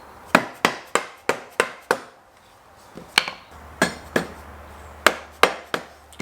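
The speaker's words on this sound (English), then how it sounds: "This is where the hammer comes in handy" A hammer taps the metal wheel axle of a KTM adventure motorcycle in a series of sharp, ringing knocks, a quick even run first, then a short pause and more irregular blows.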